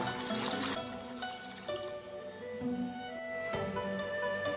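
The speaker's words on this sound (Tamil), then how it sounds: "இப்போ நிறைய தண்ணி விட்டாச்சு" Water splashes and runs steadily into a bowl of washed grains for soaking, with a louder gush at the start and a continuous trickling pour afterward.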